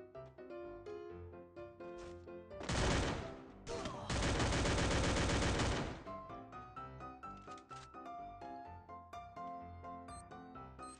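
Automatic gunfire in the shooter game Free Fire erupts in loud, dense bursts mid-clip, set against a continuous bed of tonal game music and smaller effects before and after.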